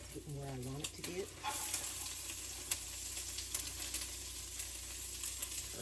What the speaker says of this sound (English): Let me go ahead and get the onions in